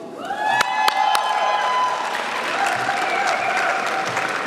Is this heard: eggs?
no